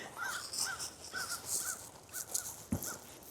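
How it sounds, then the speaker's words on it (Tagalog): A crow caws repeatedly outdoors on a winter walk, a steady series of rasping calls at moderate distance over faint ambient noise, with a brief low thump near the end. "Mayroong uwak."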